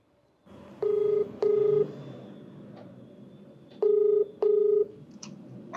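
Telephone keypad tones ring out as a call is placed, with four loud, steady beeps in two pairs separated by a pause and faint background hum between them.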